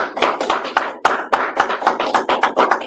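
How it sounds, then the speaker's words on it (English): A congregation claps steadily after a minister's teaching in a Nation of Islam gathering, many hands close and dense with a few sharp accented slaps, continuous through the moment with no talk over it. "give our brother Abdul another round of applause"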